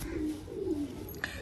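A blue pigeon with a poison-wind ailment coos softly, two low murmuring calls close by, then a brief faint chirp near the end.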